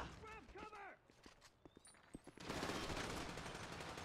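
Bursts of gunfire during a bank heist shootout in GTA 5 LSPDFR, sharp shots scattered amid a voice and then a dense, sustained rattle of automatic fire.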